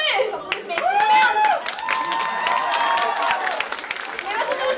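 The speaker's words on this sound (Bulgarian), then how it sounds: "Аплодисменти за Дамян!" A talent show crowd in a Varna disco club claps and cheers for a contestant, sustained loud applause with whoops and excited voices mixed in.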